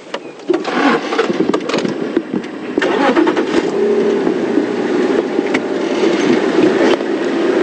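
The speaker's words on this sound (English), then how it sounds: "Can you just check how close there is to anyone lying right behind us before we start up the engine?" A safari drive vehicle's engine cranks and catches, then settles into a loud, steady rumbling idle close by, heard alone without talk.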